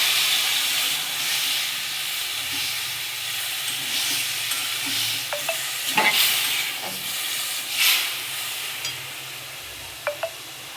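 Boiled bottle gourd greens and potato hiss and sizzle in a hot pan, a steady steamy frying sound up close, broken by occasional sharp utensil clinks and scrapes.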